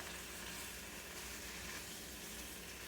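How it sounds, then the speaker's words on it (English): Steady, dense sizzling of food frying in a hot pan, a constant crackling hiss with no pauses and no talking. "It's good and hot, so we'll get a nice little sizzle on them."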